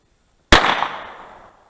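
A single sharp pistol shot cracks outdoors at target shooting aimed at a golf ball. The report is loud and sudden after silence, then its echo rolls off and fades over about a second.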